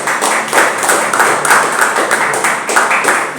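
Church congregation clapping together in a steady, loud rhythm of repeated claps, with no speech over it.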